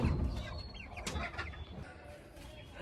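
Chickens cluck and murmur in a close, dense stream, with a few brief sharper calls rising above a steady low rustle and background noise.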